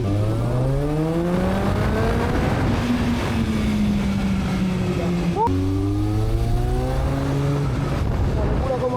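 A restored Kawasaki GPX 600 R motorcycle accelerates hard through narrow walled alleys, its engine note climbing through gears, easing off, then surging again, loud and nearby with a voice partly under it.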